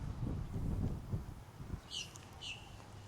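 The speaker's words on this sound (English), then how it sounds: "You can listen to the birds." A few faint bird chirps ring out in the distance over low rumbling outdoor noise at a Florida lakefront, two short calls near the end.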